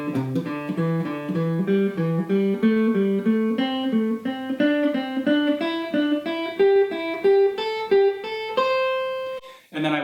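Electric or acoustic guitar picking a descending pentatonic scale in quick three-note run groups, pattern 1, notes stepping steadily downward in a continuous clean line, then a sustained final note before a brief pause.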